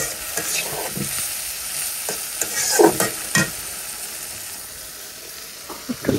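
Prawns frying with onion and ginger-garlic paste in a pan, giving a steady hissing sizzle broken by several sharp scrapes and clanks of a stirring spoon, close and with no talk.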